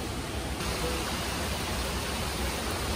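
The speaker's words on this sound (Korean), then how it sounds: "작은 폭포." A small waterfall rushes in a steady, dense hiss of falling water, constant and close, with no voices over it.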